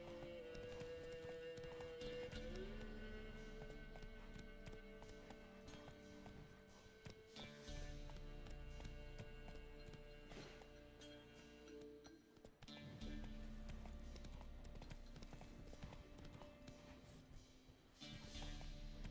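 A horse gallops in the video game The Witcher 3, its hooves drumming in a steady rapid rhythm that pauses and resumes several times, under a busy ambient game soundscape with no talking.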